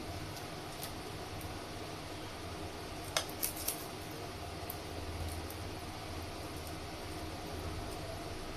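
Jackfruit seeds are cut in a quiet room, a short cluster of three or four sharp crisp snips near the middle against a low steady background hum.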